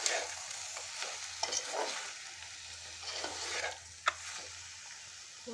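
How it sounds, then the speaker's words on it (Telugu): A spoon stirs egg and drumstick curry in a pan, making quiet, intermittent scraping strokes over a faint simmering sizzle. "ఒకసారి ఇదంతా ఇలా కలుపుకొని"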